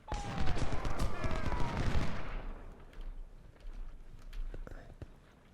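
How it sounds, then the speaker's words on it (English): Distant rolling gunfire and musket volleys in the Civil War strategy game Ultimate General: Civil War, a dense crackling burst that thins into scattered isolated shots, with faint voices beneath. "Where is this firing taking place?"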